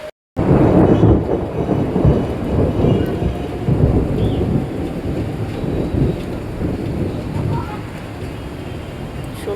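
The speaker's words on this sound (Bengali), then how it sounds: "শুনলে কিরকম মেঘের গর্জন" Thunder rumbles low and heavy over steady rainfall, a continuous loud roar after a brief silent start.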